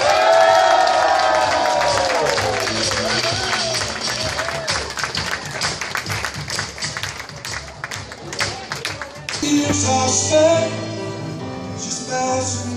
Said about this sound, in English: Let's have a nice big loud round of applause for the first time,